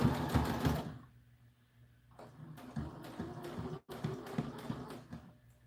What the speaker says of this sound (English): And reverse to seal off our seam.